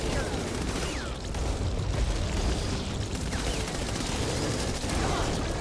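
Explosions and gunfire against a boss in the co-op video game Back 4 Blood, Act 4 Nightmare, with the Abomination: a dense, continuous rumble of blasts and shooting that stays loud throughout, with players talking over it.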